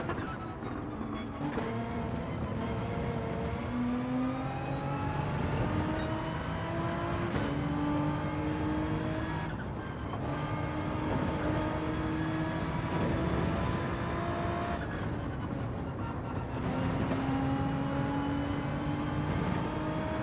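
Racing car engines in Gran Turismo 7 daily racing drone steadily at high revs, several cars' tones overlapping and shifting pitch as they climb through gears and pass, loud and continuous throughout.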